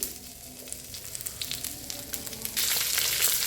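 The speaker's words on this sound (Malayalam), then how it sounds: "ഉള്ളിയെ ഞാനിങ്ങനെ ഇങ്ങനെ നന്നായിട്ടൊന്ന് വഴറ്റിക്കൊണ്ട് വരാം" Chopped shallots sautéing in hot oil for a pappadam curry, giving a continuous close sizzle with light stirring taps, and the frying swells louder near the end.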